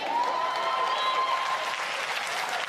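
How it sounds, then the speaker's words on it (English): Steady applause from an audience at a political talk, a dense even wash of clapping that holds at one level throughout, with a faint sustained tone running beneath it for a while. "You can clap, it's the truth."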